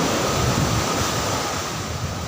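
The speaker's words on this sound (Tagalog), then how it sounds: "Malakas yung alon." Strong waves on the South China Sea, driven by monsoon wind, breaking at a beach in Bolinao, Pangasinan; a steady loud roar of surf mixed with wind buffeting the microphone.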